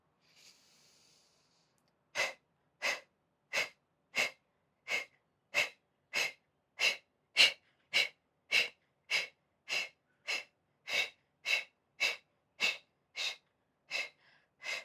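Breathing during an outdoor morning stretching routine: about eighteen short, forceful breaths in an even, quick rhythm, close and clear, with no talking.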